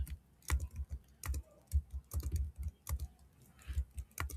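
Someone types on a computer keyboard in irregular, close clicks and clacks with short pauses between bursts, no voices over it.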